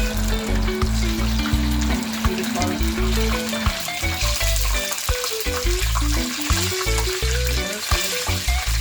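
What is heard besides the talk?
Jamaican escovitch fish frying in oil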